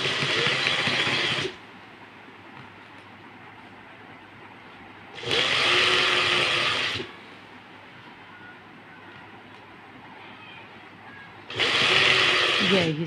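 Sewing machine stitching piping and lace onto a shirt runs in three loud bursts, each one to two seconds long, separated by quieter stretches of handling.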